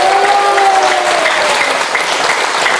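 Sustained applause from a church revival congregation, dense and loud throughout with no voices over it.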